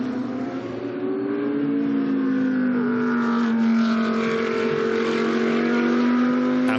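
A GT2 race car, the leading Audi, drives at speed around the Paul Ricard circuit, its loud engine droning steadily with a slowly shifting pitch and no talk.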